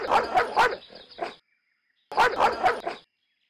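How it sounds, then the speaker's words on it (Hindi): A dog barks loudly in two close bursts of several sharp, yelping barks each, separated by a short silence. "कुत्ता बहुत जोर से भौंक रहा है।"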